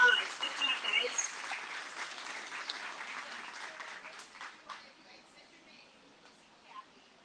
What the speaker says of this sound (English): So let's give our educational presentations a round of applause.